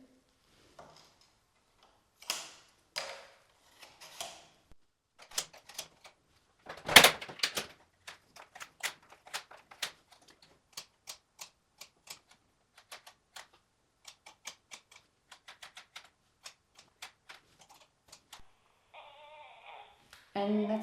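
A knitting machine casting on 126 stitches of 1x1 rib gives sparse, quiet mechanical clicks and clacks in irregular bursts, with sharper carriage knocks and a brief sliding rasp near the end.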